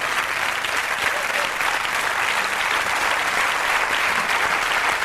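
Studio audience applause on the French Canal+ show Nulle part ailleurs in 1995, dense and continuous clapping at an even level throughout with a faint crowd murmur underneath.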